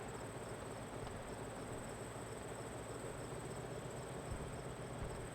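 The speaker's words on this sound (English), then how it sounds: "I wonder if you can hear crickets" Crickets chirping as map ambience in a tank video game, a constant high, thin trill over a low steady background hum, faint and unbroken throughout.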